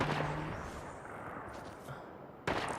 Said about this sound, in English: But of course he tried to shoot me